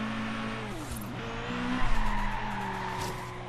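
A powerful race car in the Forza Horizon 3 racing game skids through a corner in a rainforest sprint, tires squealing over a loud, droning engine whose pitch shifts as the car slides.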